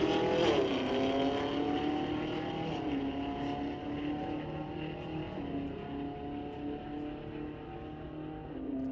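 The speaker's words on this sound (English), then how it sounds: "Camino racing a Camaro." An El Camino and a Camaro roar down a drag strip at a Friday night street-legal drag event at Mission Raceway Park, a loud, sustained engine drone rising through the gears and shifting pitch as the cars run.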